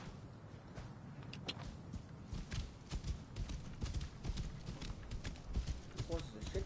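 Horse hooves clip-clop in Assassin's Creed Origins as a fast horse is ridden, a steady rhythmic trot heard close under game ambience and a voice talking over it.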